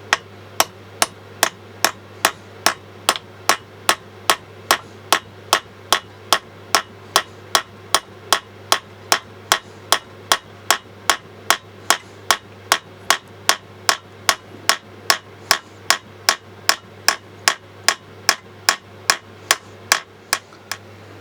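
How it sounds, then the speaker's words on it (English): Steady, evenly spaced hammer blows on a Fiat 7090DT tractor's parking brake assembly during servicing, roughly two sharp metallic strikes per second over about twenty seconds, loud and close with a faint steady hum underneath. "Make sure I don't have any dirt on my hammer."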